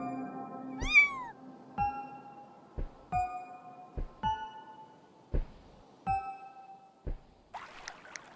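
A cat in a video game gives one clear, rising meow near the start, followed by a series of sharp knocking game sounds at regular intervals and a brief brighter chime at the end.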